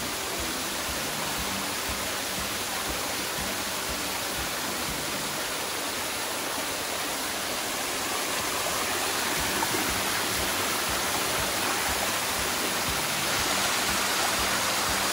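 Steady rushing water fills the whole stretch, a dense broadband roar like a stream or small waterfall nearby, growing slightly louder toward the end.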